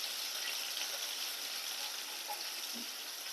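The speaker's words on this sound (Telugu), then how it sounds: "వీటన్నింటిని ఒకసారి ఫ్రై చేసుకోవాలి ఆయిల్లో" Curry leaves and finely chopped onion fry in hot oil, giving a steady, even hiss that carries on unbroken, with one faint knock near the end.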